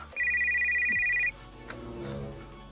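A telephone ringtone sounds as one clear, steady electronic tone lasting about a second, close and loud, followed by a low rustling pause as the call is picked up.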